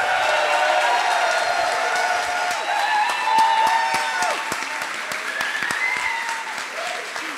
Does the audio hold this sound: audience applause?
yes